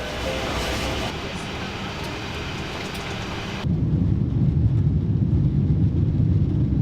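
Airliner taking off on a European trip, heard from inside the cabin: steady broadband rumble that abruptly jumps louder and deeper partway through as the engines spool up for the takeoff roll, with no talk.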